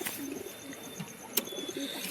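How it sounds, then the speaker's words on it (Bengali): A male pigeon of the kaldum type coos softly nearby, with low, throaty, rolling notes repeating under faint background hiss and an occasional sharp click. No one speaks. "খুব ভালো পায়রা।"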